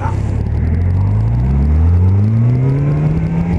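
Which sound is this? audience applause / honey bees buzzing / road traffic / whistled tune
road traffic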